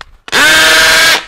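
A cordless 13 mm hammer drill runs in hammer mode for about a second, a loud close high-pitched whine with a buzzing rattle that starts abruptly and cuts off.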